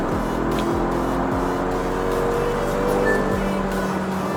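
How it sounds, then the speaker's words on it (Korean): A Genesis G70 Shooting Brake accelerates hard from about 90 km/h on a busy highway, its engine drone steady and rising beneath heavy road and wind noise, with no talking. "고속 주행 중에 잠시 급가속을 해봤는데요"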